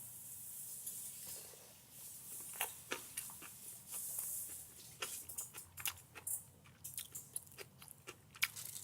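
Crunchy bites and chewing of Cheongsol kimchi, with close, irregular crisp crunches over a soft background hiss, growing denser toward the end.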